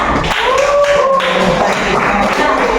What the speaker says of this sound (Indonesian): Tepuk tangan dulu buat Mas Bertian.